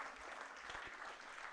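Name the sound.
audience applause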